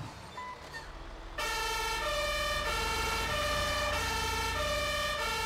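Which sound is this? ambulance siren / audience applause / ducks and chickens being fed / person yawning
ambulance siren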